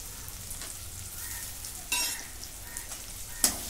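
Chopped curry leaves sizzling in hot oil in a pan with ginger-garlic paste, a steady close frying hiss with two brief sharp crackles.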